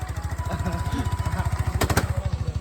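A motorcycle engine runs close by in Nagaland with a steady, rapid throbbing pulse, loud and even, and a brief metallic clatter rises near the end.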